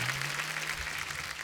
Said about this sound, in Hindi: जोरदार तालियां विकी कौशल जी के लिए